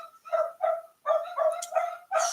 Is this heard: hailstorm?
no